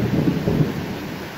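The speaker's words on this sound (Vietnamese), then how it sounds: "bữa nay trời mưa lớn quá các bạn ơi." Heavy rain pours down during a thunderstorm over a home garden, with a loud, steady roar of rainfall and deep rumbling thunder close by.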